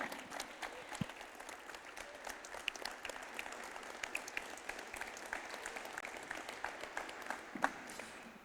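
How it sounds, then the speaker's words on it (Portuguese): A church congregation at a Sunday service applauds, giving quieter, somewhat distant clapping with scattered sharp individual claps, steady for several seconds. "Uma salva de palmas para o Senhor."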